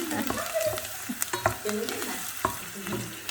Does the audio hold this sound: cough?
no